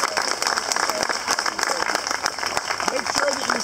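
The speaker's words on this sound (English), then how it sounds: "give out an applause for 75 great years" Guests at a 75th birthday party clapping, scattered applause mixed with crowd chatter and voices talking throughout.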